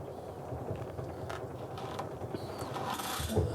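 A Bülk velomobile's wheel and chain turned slowly by hand during bottom bracket maintenance give a faint, steady mechanical creaking and soft ticking of chain links, continuous and close, with no talking.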